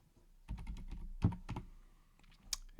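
Typing on a computer keyboard, a close run of quick clicking keystrokes with a heavier thunk midway and a sharp final tap, quiet room otherwise.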